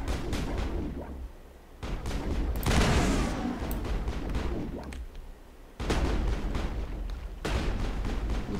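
Gunfire in Mass Effect comes as bursts of loud, close shots and crackling volleys, separated by short lulls, with heavier blasts mixed in and no talk.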